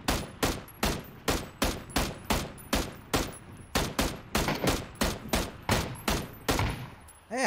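Steady, evenly spaced shots from a video game gun, roughly two per second, each a loud close crack with a short decaying tail, repeating without pause throughout.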